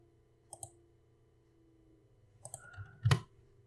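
Several distinct mouse clicks, a close pair near the start and a louder cluster toward the end, are heard while an area is traced in mapping software, with quiet room tone and a faint hum in between and no talking.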